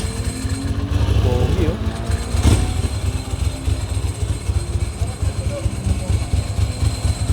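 A Ducati Multistrada V4 motorcycle with a dry clutch running nearby, a steady low engine drone with rattly texture throughout, while someone talks over it.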